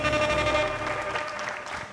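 A studio audience on a French-language talk show claps for a guest, a dense burst of applause that holds steady and tapers slightly, with music in the background.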